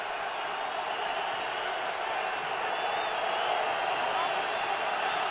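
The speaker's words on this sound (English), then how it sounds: "Crowd getting back into it." A football stadium crowd roars steadily through a Jets–Cardinals game in 2008, a broad, continuous wash of cheering that swells slightly toward the end, with no clear individual voices standing out.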